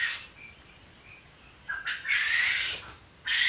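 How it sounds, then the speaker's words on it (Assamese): Female bota bird (pigeon) chick calling, a few thin squeaky cries, then longer loud squawking calls close by with brief pauses between them. "এই পোৱালিটো হৈছে আপোনাৰ মাইকী"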